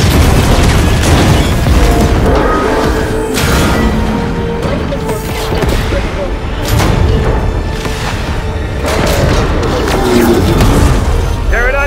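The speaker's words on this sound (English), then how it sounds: "But we're getting blown up right now." Loud, dense barrage of booming explosions and crashing blasts in the Fortnite Collision live event, rolling almost continuously with repeated heavy bursts over a rumbling game soundtrack, with voices faintly under the din.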